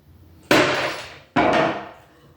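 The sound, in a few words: hammer smacking rusty drawer handle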